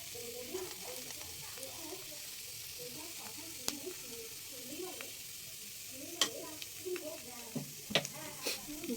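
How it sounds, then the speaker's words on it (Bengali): Patishapta pitha frying in a little oil in a pan, with a steady soft sizzle throughout and a few sharp pops and clicks near the end, while a voice speaks quietly over it. "বন্ধুরা, আমি এখানে একটু তেল দিয়ে দিয়েছি পিঠেটার জন্য। পিঠেটা ভাজবো।"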